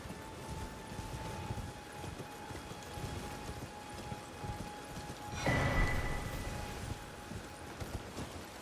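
A horse in Elden Ring clip-clops along in a steady rhythmic gallop at moderate distance, with a brief louder burst of movement partway through.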